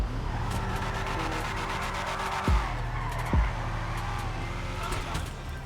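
Car drifting in GTA 5 as a Drift Yosemite, a rear-wheel-drive drift tamper, engine droning steadily with two sharp tyre skids breaking through near the middle, all at close range.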